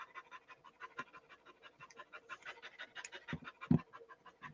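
A dog pants close by in a fast, steady rhythm of short breaths, with a couple of soft thumps near the end.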